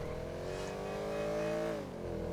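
A Mercedes-AMG C63 Black Series sports car engine in GTA Online revs steadily with a harmonic drone, pitch gently rising then dropping, loud and continuous with no voices.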